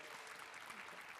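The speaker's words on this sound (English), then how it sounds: "Please welcome our speakers with a hot and warm applause." Applause from a conference audience welcoming panel speakers on stage, a steady dense patter of clapping that stays at an even level for the whole short stretch.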